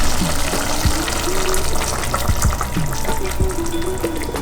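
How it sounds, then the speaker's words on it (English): Thick coconut milk being poured into a pot of Kerala vegetable stew, a continuous close gurgling and splashing liquid stream with faint bubbling. "I'm going to be adding the thick coconut milk,"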